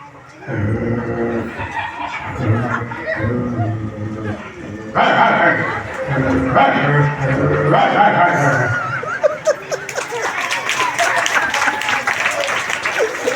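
A man on stage at a purana gathering in Taluru imitates a dog barking with his voice, a string of loud woofs and yips answered by audience laughter and applause toward the end.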